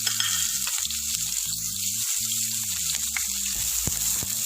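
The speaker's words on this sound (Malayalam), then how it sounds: "ഇനി നമുക്ക് പട്ടയും കറാമ്പും ഒന്ന് ഫ്രൈ ചെയ്തെടുക്കാം." Cinnamon and cloves fry in oil in a pan for Chicken Kashmeeri, giving a close, continuous bubbling sizzle with faint scattered crackles and no voices.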